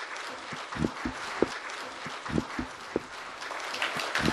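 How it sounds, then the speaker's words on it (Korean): An audience at a culture session of a Jeju forum applauds to welcome a speaker, a moderate, steady clapping with a few sharper claps standing out, heard from within the room. "큰 박수로 맞이해 주시기 바랍니다."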